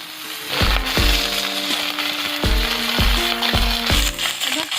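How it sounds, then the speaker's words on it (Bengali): Vegetables such as flat beans are being fried and stirred for vegetarian bhog khichuri, with a steady sizzle under repeated metallic clinks of a spatula striking the pan in an irregular rhythm. "খিচুড়ি রান্না করতে গেলে সবজিগুলোকে আপনারা ভেজে নেবেন"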